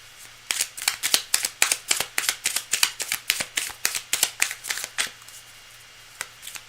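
A deck of cards is riffled repeatedly in quick, crisp bursts, a steady run of close, sharp flutters that trails off at the end.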